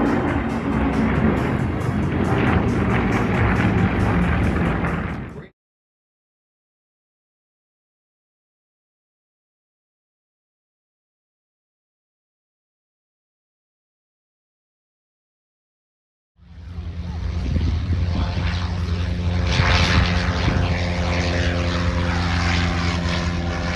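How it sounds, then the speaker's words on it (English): Yakovlev Yak-52 two-seat Soviet-designed propeller trainers flying in a nine-aircraft formation at an air show: a loud sustained piston-engine drone, cut off by a long silent gap, then returning at similar strength. "Team consists of 9 aircraft, all Yakalev Yak 52s."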